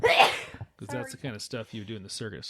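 A single sharp sneeze from a person who has been sick and is recovering, loud and close, followed at once by someone speaking.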